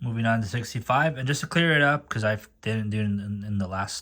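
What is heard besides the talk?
No everyday noise stands out behind the speech.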